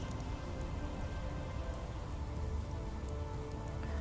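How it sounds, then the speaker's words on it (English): Toxic Rain skill effect from the Path of Exile video game: a steady, dense hiss like rain pattering on a surface, continuous and uniform throughout without any voices. "I kind of like this toxic rain."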